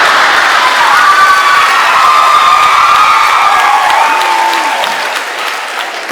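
Women in a comedy show audience cheering and whooping over loud applause, a bright, sustained crowd roar with high-pitched shouts that slowly fades toward the end.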